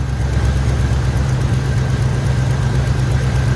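An old shop truck engine idles steadily with a low, rough rumble and constant vibration, close and continuous with no talking.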